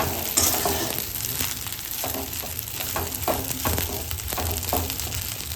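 Spiced leftover idli pieces sizzle in an oiled pan on low flame, a steady close frying hiss with repeated spatula scrapes and stirring knocks, no voices.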